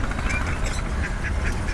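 A Kuttanad duck quacking in a pet shop, a few nasal quacks repeating over a dense, loud background of shop noise and other birds.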